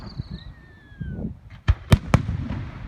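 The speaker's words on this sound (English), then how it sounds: "We will stay and watch all of the fireworks." Fourth of July fireworks go off at a distance: a couple of whistling rockets rise, then three sharp, loud bangs follow in quick succession against a quiet background.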